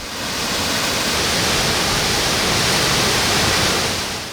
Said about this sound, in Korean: 10여 미터 높이의 직폭이 시원하게 쏟아집니다